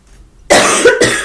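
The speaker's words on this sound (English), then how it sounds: "I can feel that I'm going to be coughing for a long time" A single loud, close cough bursts out after a quiet moment and is followed by a second harsh cough.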